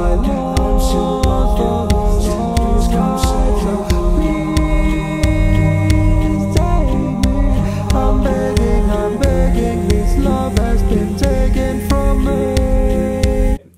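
A full song demo in 6/4 with a heavily oversaturated, distorted kick drum thumping steadily under layered instruments, loud and dense throughout, ending abruptly.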